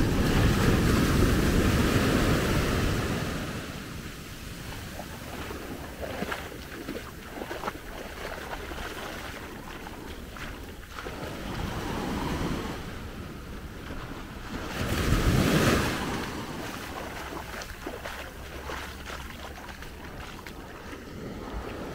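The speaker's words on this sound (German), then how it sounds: "eine Welle dümpelt so hier ran." Small waves washing ashore at Maspalomas, Gran Canaria, a soft continuous surf wash that swells and recedes, loudest at the start and again briefly near the middle, with some wind noise.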